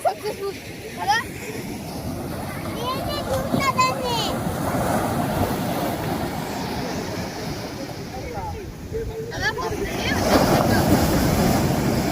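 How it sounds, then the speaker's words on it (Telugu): Strong sea waves surge and wash continuously at Digha beach with wind buffeting the microphone, while voices, including a child's, call out intermittently. "అలల ఉధృతి ఎక్కువ అవడంతో"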